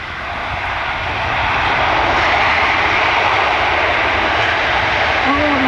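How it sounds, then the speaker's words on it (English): Loud, sustained roar of a C-17 Globemaster III's jet engines in thrust reverse at an airshow, swelling in the first second and then holding steady and dense throughout. "it's just about the noisiest this whole airplane is going to get all day"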